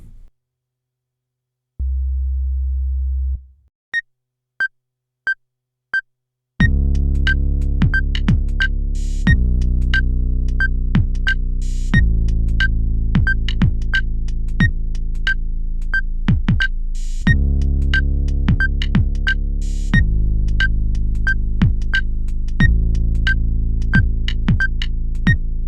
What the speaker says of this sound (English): The sine lead is exactly what it says, it's a sine wave.